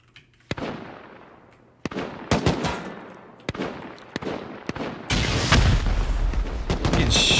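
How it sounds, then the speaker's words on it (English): Turrets open fire in the video game Rust during a clan raid, sharp shots in scattered bursts that build into a dense, continuous barrage toward the end. "Shooting my turrets down now."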